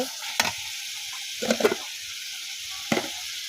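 Cauliflower stalks and potatoes go into hot oil and fried spice paste, bringing a soft sizzle with a few sharp clattering stirs and scrapes spaced through the background hiss, close and moderately quiet.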